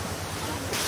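A jungle waterfall in Sri Lanka roars as a dense, steady rush of falling water, loud and close with no voices over it.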